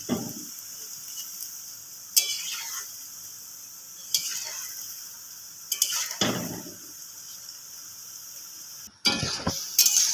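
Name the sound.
khejur misti sweets being deep-fried and stirred in oil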